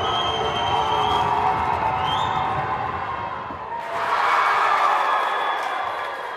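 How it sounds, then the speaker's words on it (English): Crowd in a high school gym cheering through a boys basketball regional championship game, a steady loud roar that dips briefly and then swells again. "In the spirit of good sportsmanship, they're cheering them on."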